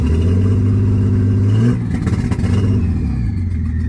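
A Nissan Skyline engine with a suspected fault revs loudly and close up from a high idle, holding a steady rising note before dropping back to a rough, uneven idle.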